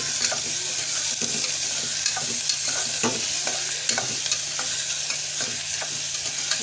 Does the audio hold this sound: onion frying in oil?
yes